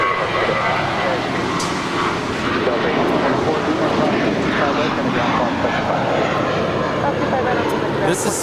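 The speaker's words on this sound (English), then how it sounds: "631 departing to Atlanta. It's a 4-year-old Airbus A320." A four-year-old Spirit Airlines Airbus A320 departing Los Angeles International Airport, its jet engines giving a loud, continuous roar that fills the scene, with a voice speaking over it.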